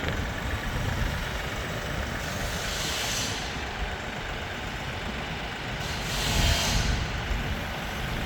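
A Kioti NS4710 tractor engine idles with a steady low rumble, while two louder hissing surges swell and fade over the continuous idle.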